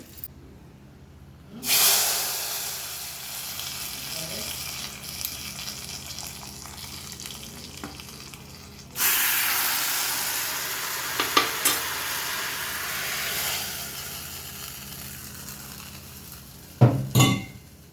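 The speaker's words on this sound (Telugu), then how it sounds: "పోపు కొంచెం వేగిన తర్వాత ఆవాలు చిట్పట్టమంటున్నాయి" Hot oil sizzles and spits as mustard seeds splutter alongside cumin and dried red chillies, with bursts of crackling hiss and a few clinks of a utensil against the pan.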